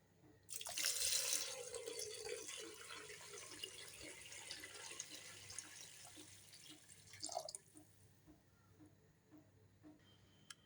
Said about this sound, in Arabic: دوكا حنا نفرغ عليها ماء سخون يغلي